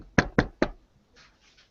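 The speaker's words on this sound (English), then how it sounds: "knocking on the door" Three firm knocks on a door, evenly spaced and close, followed by faint rustling; a worked-up man has just stepped out of a car to knock.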